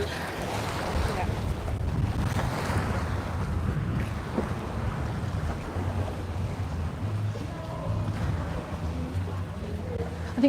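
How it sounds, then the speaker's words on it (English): Steady wind blowing by the sea at Puerto Pollensa, Mallorca, a continuous broadband rush with low rumbling gusts buffeting the microphone, with water and waves faintly beneath and no talking. "Okay, it's getting quite windy."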